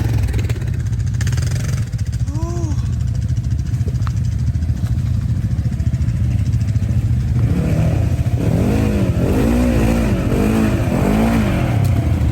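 Polaris General XP1000 UTV driving off-road on a forestry road, a steady loud engine drone with throttle rises and falls, revving harder toward the end, no talking.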